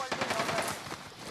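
Rapid gunfire in a shooter video game, a dense burst of automatic shots with no gaps, moderately loud.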